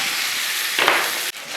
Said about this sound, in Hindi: तमाम स्पाइसेस को हमने चिकन के साथ अच्छी तरह से भून लेना है